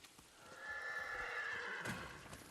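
A horse whinnies in the video game Ghost of Tsushima: one drawn-out neigh rising and falling over about two seconds, with faint hoof clops at the start and a rough burst near the end.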